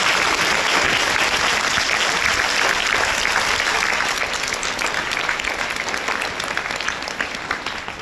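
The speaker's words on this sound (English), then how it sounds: "Please give them a big round of applause" A school assembly audience gives sustained applause at a farewell for a convent school principal, a loud, dense crowd clapping that continues evenly and tapers slightly at the end.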